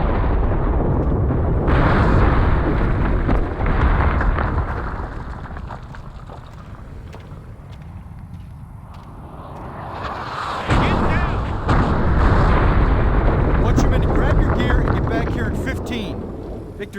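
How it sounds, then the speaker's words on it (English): Rocket fire and explosions in the Men of Valor video game, loud booming bursts and rumbling blasts filling the scene at the start and again near the end, with shouted voices in between. "Victor Charlie is launching those rockets from the surrounding hills."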